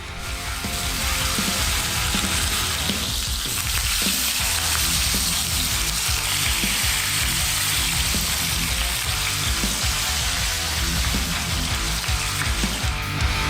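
Rolled pork browns in a hot pan for a golden crust, giving a steady, loud sizzle and spatter of frying throughout, with occasional scraping as the pieces are turned and no talk.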